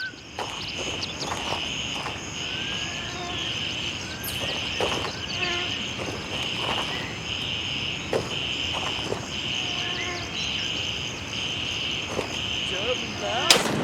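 Gunfire in a video game pops in scattered distant shots and short bursts over a constant insect-like chirping ambience, with brief faint voices in places.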